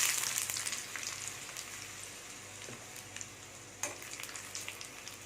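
Dried red chillies crackle and sizzle in hot oil with popped mustard seeds for a South Indian tempering, a steady close frying hiss with scattered sharp pops and a brief louder burst near the end.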